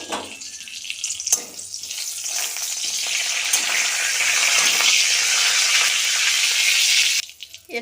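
Bay leaves, cardamom and cloves frying in hot oil in a wok: a sharp crackle bursts in, then a loud, even hissing sizzle builds and holds for several seconds before cutting off abruptly, with no talk.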